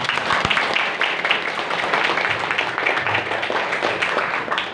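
An audience at an Islamic boarding school seminar breaks into sustained, dense applause, an even wash of many hands clapping together for several seconds.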